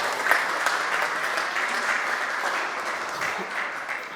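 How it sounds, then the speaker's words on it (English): A room full of people claps through a fashion event, the applause even and sustained for several seconds before starting to thin near the end, with no talking over it. "Let's have a round of applause,"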